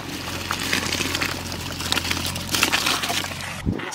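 Gobindobhog rice is washed in water at a village outdoor cooking for a big batch of goat curry, with steady sloshing and pouring close by and a brief heavier splash near the end.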